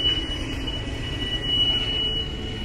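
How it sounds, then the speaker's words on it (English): A train rolls by through the Cajon Pass with a steady mechanical roar and a thin, high wheel squeal running through it. "Did I mention trains are noisy?"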